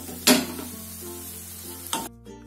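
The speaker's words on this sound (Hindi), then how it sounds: "अब हम फ्लेम को हाई कर देंगे और इसको थोड़ी देर तक फ्राई करते रहेंगे।" Vegetables sizzle in fish oil in an open pan, a loud hiss with two sharp bursts as the food is moved, then it cuts off abruptly.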